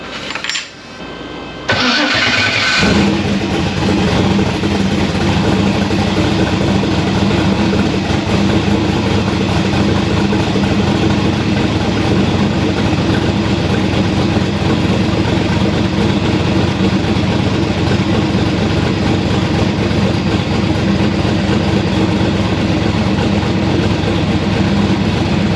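A newly installed car motor cranks briefly, catches and settles into a steady, loud idle that runs on evenly and close by with no talking.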